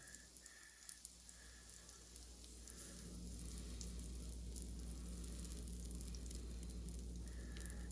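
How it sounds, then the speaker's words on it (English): Batter sizzles steadily in a hot pan, a soft continuous crackle and hiss that grows slightly fuller partway through, with no talking. "You can hear it sizzling. The bottom is already cooking."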